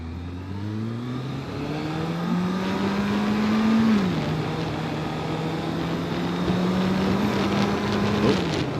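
An old Kawasaki ZRX1100 motorcycle engine roars steadily while accelerating on a highway, its pitch climbing then dropping and holding, a continuous close rumble with no voices.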